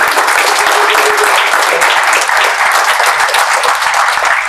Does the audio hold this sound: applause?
yes